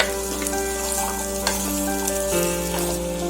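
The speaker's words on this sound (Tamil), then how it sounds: "இப்ப எண்ணெய் காஞ்சதும் நம்ம ஸ்கொயர் ஷேப்ல வெட்டி வச்சிருக்க வெங்காயம் போட்டுக்கோங்க." Square-cut onion, capsicum and paneer sautéing in hot oil in a kadai, a steady close sizzle throughout with a few light stirring clicks and a constant low hum underneath.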